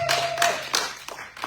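A church congregation applauds, a brief patter of sharp, irregular hand claps at close to moderate range that thins out toward the end, with a faint sustained tone fading at the start.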